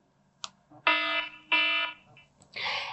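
Preview tones from an iPhone's default alarm sound options play in short bursts: a brief chirp, then two sustained bright electronic tones, then another tone starting at the end. They are clear and fairly close, with no talking.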